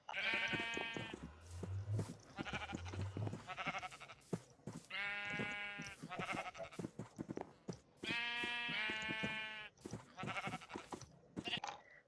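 Sheep bleat repeatedly in a Minecraft-style survival game, a series of loud, near, wavering cries coming in clusters with short gaps and faint game sounds between, no talking.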